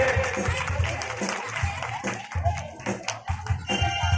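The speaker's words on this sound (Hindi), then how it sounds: "जोरदार तालियां इस बच्चे के लिए।" Audience clapping for a child at a Ramleela prize distribution event, an irregular crowd patter of hands with prominent close claps, mixed with crowd murmur and low thumping sounds beneath it.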